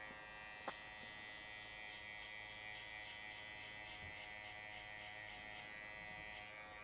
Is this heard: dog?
no